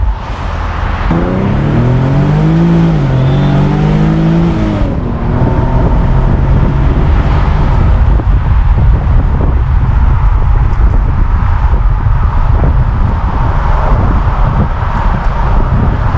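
A 2015 Infiniti Q60 IPL convertible accelerates on a highway, a loud sustained engine and road roar mixed with heavy wind buffeting, with a rising tonal engine sweep early on before settling into steady cruising noise.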